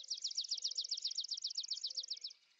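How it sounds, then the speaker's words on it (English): A swamp sparrow sings a fast, even trill of rapid repeated notes, a single clear phrase lasting about two seconds against a quiet background before fading out. "Here, for instance, is a swamp sparrow singing for a mate."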